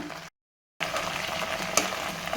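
Vallarai (pennywort) greens sizzle and fry steadily in a pan, a close, continuous crackle broken by a brief silent gap.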